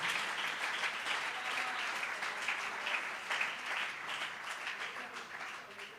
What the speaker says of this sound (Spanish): Aplauda la presencia del Señor.